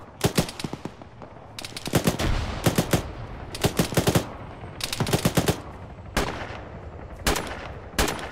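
Heavy machine gun fire in the Arma military shooter, loud rhythmic bursts of rapid shots repeating in clusters across the stretch, close and punchy with short pauses between volleys.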